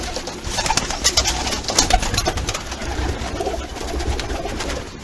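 Japanese pigeons coo repeatedly at close range, soft throaty calls overlapping with faint fluttering and rustling in the background.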